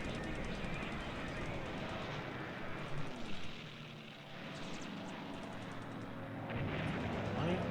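Bombers and Nate fighters clash in an aerial battle in the war game War in the Pacific, with a dense, continuous rumble of engines and rattling gunfire and explosions. The whole sequence plays at a low, steady level.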